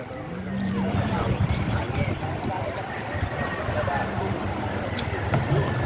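Continuous rushing wind of the northeast monsoon over Laguna Lake mixed with churning water and lapping waves, a dense broadband roar throughout, with a faint voice underneath.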